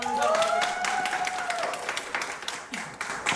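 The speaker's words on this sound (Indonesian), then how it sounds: "Oke, tepuk tangan." A small group in a podcast studio claps briefly, a short burst of hand claps with some voices and a tonal sound under it, fading unevenly over a few seconds.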